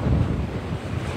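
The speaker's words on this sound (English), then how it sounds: "wind water and waves washing up now over the seawall" Lake Monroe waves driven by wind from Nicole wash over a seawall, a loud, continuous roar of surf and rushing water with heavy wind buffeting the mic, with no talking.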